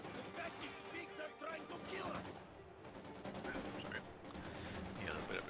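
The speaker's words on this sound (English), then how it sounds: "Maxim machine gun moves in to push away those Panzer Grenadiers" Maxim machine gun bursts in Company of Heroes 2 mix with other gunfire and battle noise in rapid, dense crackling volleys, with a voice talking over the fighting.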